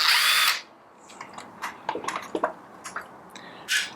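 A power driver whirs in one short, loud burst, then Phillips screws rattle and click faintly as they come free from a grinder's circuit board, with a final brief spin of the driver.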